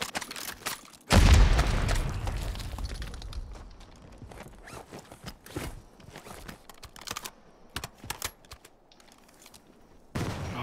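Frag grenade blast in a multiplayer shooter, a loud booming burst early on followed by scattered rapid gunfire cracks and clatter, with a sharp renewed burst at the end.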